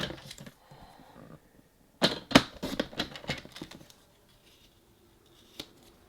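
Scissors snip through card paper in a quick cluster of crisp, close cuts, surrounded by quieter handling rustles and one last faint snip.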